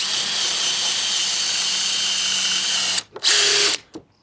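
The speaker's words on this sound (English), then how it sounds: "It's probably not the sharpest drill bit in the box, but it'll do." A power drill whirs steadily at high speed for a few seconds drilling a pilot hole with a dull bit, then stops, followed by two short bursts of drilling.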